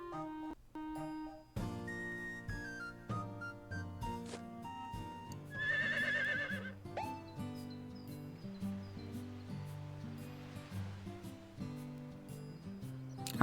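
A horse in the farming game Harvest Moon: Winds of Anthos gives a clear whinny around the middle, set among soft game music with plucked and chiming notes, no voices.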